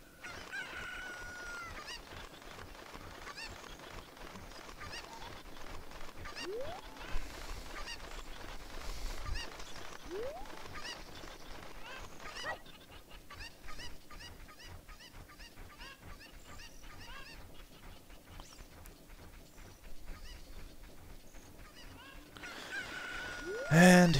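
Cucco chickens in Zelda: Ocarina of Time cluck and squawk repeatedly over light game music, with sharp honking cries recurring throughout and a louder burst at the very end.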